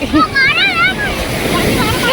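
Sea waves wash in on a beach with a continuous broad rush and wind noise, while voices chatter and squeal over it.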